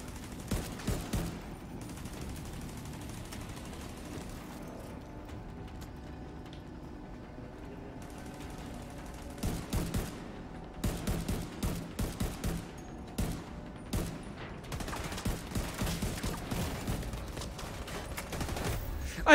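Gunfire in The Division 2: rapid automatic bursts and single shots, some close and sharp, others softer, with a quieter lull in the middle before firing resumes heavily.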